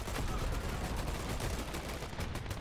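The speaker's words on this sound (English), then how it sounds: "He's just casually shooting from up high." Rapid gunfire in a multiplayer shooter video game, a quick string of sharp, close shots in fast rhythm over a noisy background of game sound.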